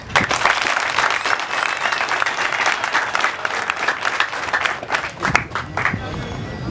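A crowd at a project launch ceremony applauds steadily throughout, dense clapping that swells and fades slightly with some scattered voices mixed in.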